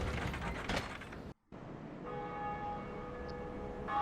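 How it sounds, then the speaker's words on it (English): A bell in the Dark Souls video game tolling far off in the distance, a faint sustained ringing tone over a steady mechanical rumble and clanking game ambience. "they'll hear this bell ring"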